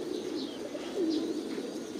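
Pigeons, Thai Titan birds raised in steel cages, coo softly and steadily through the whole stretch, with faint chirps rising over a constant low bird murmur.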